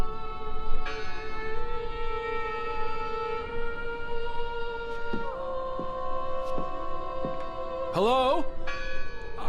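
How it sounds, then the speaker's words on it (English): Sustained church-style bell tones ring in the video game Draugen, long resonant strikes layered and decaying, with a few other clanks and a brief spoken call partway through. "I heard the bell."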